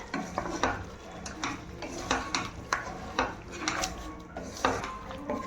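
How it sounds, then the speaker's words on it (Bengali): Chicken stir-fried with yogurt and tomato in a pan over medium flame for an oil-free curry, rhythmic metal spatula scrapes and clinks against the pan repeating every half second over a soft sizzle, alone without talk. "আর একটু আমি মিডিয়াম ফ্লেমে রেখে কষিয়ে নেব।"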